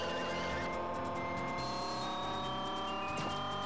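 Toy-like cars race in the PS2 video game ChoroQ. Engines whine and hum continuously, with a brief squeal near the end.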